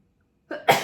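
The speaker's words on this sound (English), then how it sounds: "I'm gonna have to sneeze." A single sharp sneeze bursts out after a brief quiet intake of breath, close and loud.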